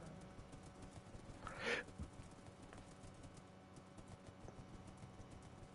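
Horse hooves in a Minecraft-style survival game on a course edged with honey blocks, a brief burst of clip-clop around the two-second mark over a low steady background, no talk.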